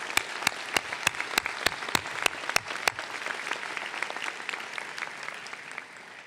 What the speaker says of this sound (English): let's give another applause for your families